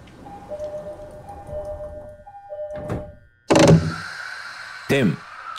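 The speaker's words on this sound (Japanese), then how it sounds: "ドアが閉まります。 ご注意ください。" E217 series commuter train doors close on the Yokosuka Line in JR East Train Simulator: soft repeating warning tones, then a sharp heavy thunk as the doors shut and a second solid bump a moment later.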